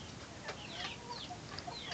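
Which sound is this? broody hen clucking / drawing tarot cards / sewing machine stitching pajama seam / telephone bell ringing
broody hen clucking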